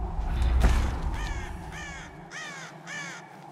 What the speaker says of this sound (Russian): Это что такое летает? А, это... Ворона.